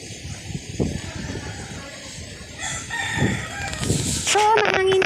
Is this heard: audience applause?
no